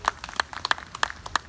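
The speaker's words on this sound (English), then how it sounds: "So give yourselves a round of applause" A small audience at a political gathering claps, with sparse, distinct hand claps at an uneven pace, fairly close and moderately quiet, no voices over it.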